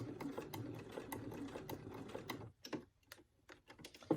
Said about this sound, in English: you can just sew right over your zipper